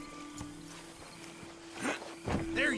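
A horse in the video game Red Dead Redemption 2 gives a few soft hoof clops and snorts, then a louder whinny-like snort near the end, under steady ambient hum and game background.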